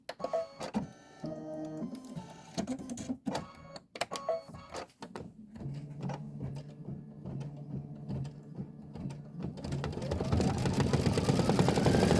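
A computerized embroidery machine stitches clover leaves and stem fill on a quilt tile, a rapid mechanical chatter of needle strokes with brief pauses and shifting pitch, building steadily louder toward the end.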